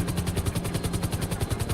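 Helicopter flying in the video game GTA 5, a loud, steady rapid rotor chop pulsing evenly throughout, with no speech.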